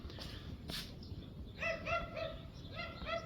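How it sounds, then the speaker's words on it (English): A dog barks in the distance near a garden tractor restoration workshop, a quick run of sharp barks in two bursts, fairly faint over a steady background hum. "That dog never stops"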